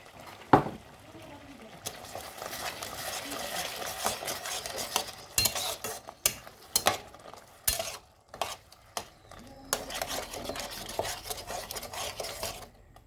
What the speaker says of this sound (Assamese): আৰু 1 মিনিট টাইম মই আমখিনি ফ্ৰাই কৰি লম